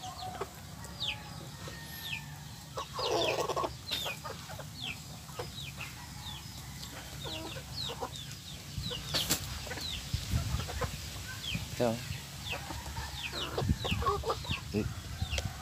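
Chickens cluck repeatedly around a farmyard, with short calls scattered over a steady outdoor background and a few louder squawks.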